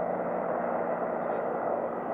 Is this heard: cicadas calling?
no